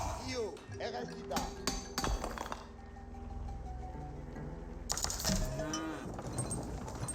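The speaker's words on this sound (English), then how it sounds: "Sounds like more cows being pulled out on the field." Cattle moo repeatedly in an Age of Empires 4 match, drawn-out lowing calls mixed with game clinks and effects under a commentator's running talk.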